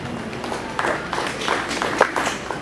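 Audience at a county fair 4-H and FFA dairy show claps for the junior dairy showman champion, a steady patter of hands lasting a few seconds at moderate volume, with a faint murmur underneath.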